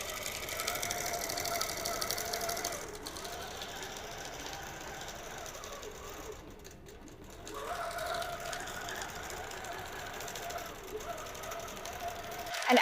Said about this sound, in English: So it's going to do a few micro stitches to stitch out that design.